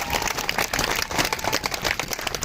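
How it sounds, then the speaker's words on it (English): Outdoor crowd at a political rally in Philadelphia breaks into steady, dense applause, a continuous wash of clapping that stays fairly even and moderately loud throughout. "Give yourselves another round of applause."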